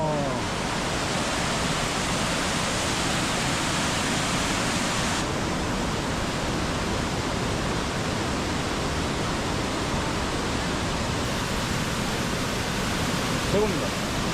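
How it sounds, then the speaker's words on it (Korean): Steady, dense roar of a powerful waterfall in Sapa, Vietnam, swollen after heavy rain, heard up close and filling the whole clip with no breaks. "비가 꽤 왔을 거라서 폭포가 꽤 강할 것 같기는 한데"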